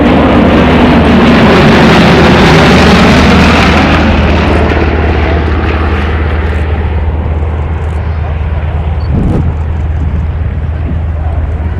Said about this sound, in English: They're the only 9-ship yak formation team in the world, performing a 9-ship loop.